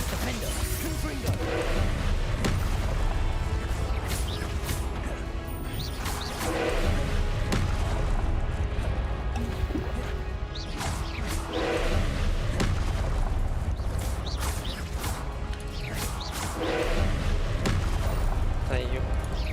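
Confringo spell blasts in a Harry Potter video game go off as repeated booming crashes amid combat noise, under frequent speech.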